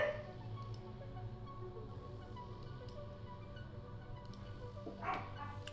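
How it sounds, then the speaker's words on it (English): A pet dog barks while playing indoors, faint and somewhat distant, with a few short yips and a louder bark near the end over a low steady room hum. "if you hear my dog barking"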